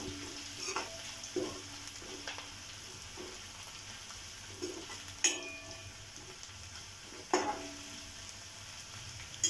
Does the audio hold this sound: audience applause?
no